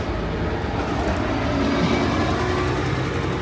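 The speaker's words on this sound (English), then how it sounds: "These bastard buses, they're so loud." Loud, steady rumble of heavy traffic with a passing bus engine droning close by, constant throughout with no pauses.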